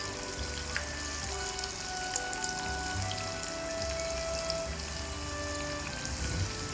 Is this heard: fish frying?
yes